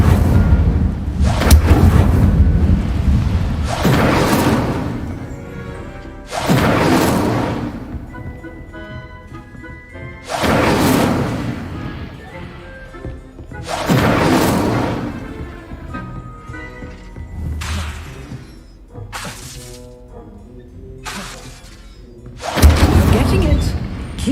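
Incendio fire spell cast repeatedly in the video game Hogwarts Legacy, each cast a loud whooshing burst with a booming thud, recurring in a steady series of roughly seven blasts over the stretch.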